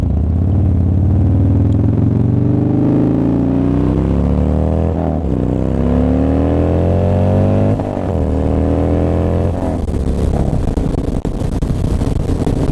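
A Harley-Davidson Dyna motorcycle engine revving hard at full throttle toward the red line, a loud, close, deep rumble whose pitch climbs repeatedly through rising sweeps before dropping back, alone without talk.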